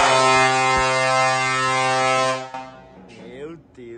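A loud truck air horn blasts for about two and a half seconds, then cuts off as a voice speaks briefly.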